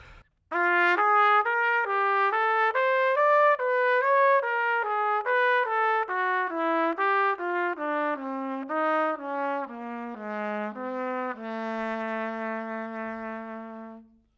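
A slow, sustained melodic line of single notes stepping up and down in minor thirds and major seconds, played smoothly and evenly, alone without any voices.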